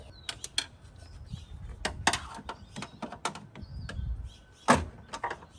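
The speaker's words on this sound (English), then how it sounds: "I'm gonna try and get a tuning screwdriver down there and just pop that spring off." A tuning screwdriver prying a spring off a clutch pedal quadrant assembly during a clutch cable kit install, heard as a series of sharp metallic clicks, snaps and scrapes, close and fairly quiet, spaced irregularly.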